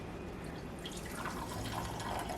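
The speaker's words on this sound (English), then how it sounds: "once your spinach is in your towel, we are going to just squish it out" Cooked spinach wrapped in a towel is squeezed by hand, letting water trickle and drip steadily into a sink, a faint continuous splashing without speech.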